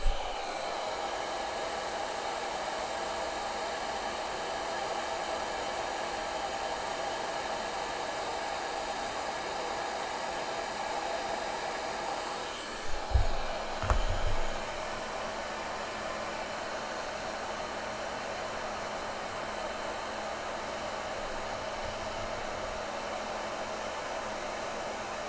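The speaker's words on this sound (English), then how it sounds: "So for the last time, I will take out the heat gun." A heat gun blows steadily for the whole stretch, an even loud airy whoosh, broken only by a few brief knocks and handling clatters partway through.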